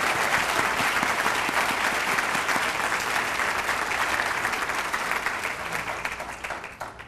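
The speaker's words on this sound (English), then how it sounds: "if you would join me in a round of applause for them" Sustained applause from a large audience at a school district event, dense clapping at steady volume through most of the stretch before tapering slightly at the end.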